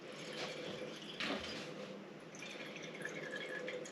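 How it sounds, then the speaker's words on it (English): Rendered lard is ladled out of a pot: a steady wet trickle of liquid fat pouring and dripping, with a brief louder splash partway through. Close and continuous, with no voices. "I'm just going to continue ladling some of this out."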